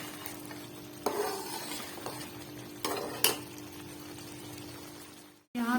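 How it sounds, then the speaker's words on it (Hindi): Mutton korma is bhuna-fried with masala in a pan while being stirred. A soft, steady sizzle runs throughout, broken by a few sharp scraping strokes of the spoon against the pot. "यहाँ पे सिर्फ इसकी मैं करूँगी भुनाई, अच्छी से इसकी भुनाई करेंगे।"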